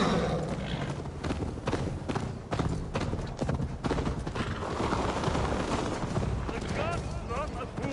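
Horse hooves galloping in Assassin's Creed Valhalla, a fast, loud rhythmic pounding that runs throughout, with voices talking over the ride.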